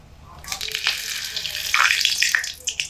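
Whole bay leaves, four of them, sizzle and crackle steadily in hot oil as a tempering for a dried jujube pickle, a bright frying hiss close by with no talk over it.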